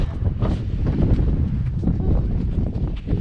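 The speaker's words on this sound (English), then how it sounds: "The wind is picking up a little." Wind picking up on a slushy mountain trail, gusting steadily and roaring against the microphone in a loud, continuous rumble.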